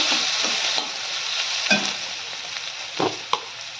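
Spice paste stir-fried in a pan for a Bengali katla fish curry with potato and onion: steady bright sizzle with scraping stirs at intervals and a few sharper knocks, close and alone.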